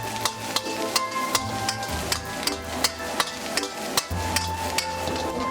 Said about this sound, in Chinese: 下青红辣椒圈，继续大火翻炒均匀